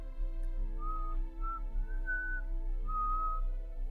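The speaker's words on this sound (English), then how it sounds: "I stood there, listening to the whistling" Eerie, wavering tonal whistling drifts through several rising and falling phrases over a low steady hum, sustained and fairly clear with no voices, evoking a haunting whistle in a dark house at night.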